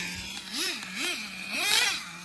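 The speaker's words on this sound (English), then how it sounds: "This Picco 26 is a beast of an engine, that's no lie." Picco 26 nitro engine in a Traxxas Revo 3.3 RC truck revving, three quick rising-and-falling buzzing blips from a high-pitched idle, fairly close and moderately loud.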